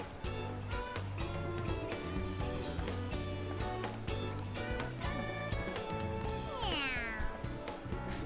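A cat in Persona 5 Strikers lets out a brief, rising meow late in the clip, sitting faintly atop loud, continuous background music.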